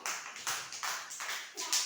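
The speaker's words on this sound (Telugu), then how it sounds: "క్లాప్స్ కొట్టండి అందరూ ఒకసారి" Children clapping after a classroom basketball play activity, about seven uneven claps spaced across the stretch, fairly close and clear with no talk over them.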